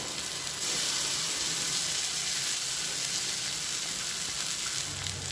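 Marinated chicken hits hot fried onions in a pan for chicken kosha, giving a steady, loud, bright sizzle and hiss that holds evenly throughout with no voices.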